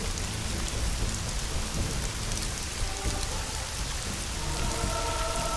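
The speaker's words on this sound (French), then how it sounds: "Et il pleut bien, il pleut bien." Heavy rain pours without a break in the video game Hitman Blood Money, a loud, dense wash with thunder rumbling low beneath it and no voices.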